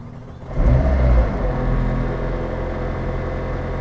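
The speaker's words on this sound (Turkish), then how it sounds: "Şuradan basıyorum engine start stop'a." A McLaren Senna engine fires up with a brief loud rise, then settles into a steady, deep idle rumble close by, with no talk over it.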